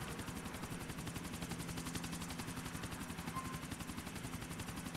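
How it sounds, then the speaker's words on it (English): A helicopter in Grand Theft Auto IV: The Ballad of Gay Tony, its rotor giving a fast, even thudding chop. The sound is steady and fairly faint, with no talk over it. "He's taking the chopper!"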